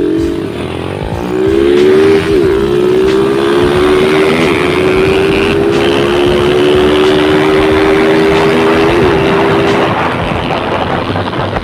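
Honda 155 motorcycles accelerate hard in a 200-meter drag race, one with a CDI ignition and one with a contact-point ignition. The loud, close engine whine climbs steadily in pitch through several gear shifts, with wind rushing around it.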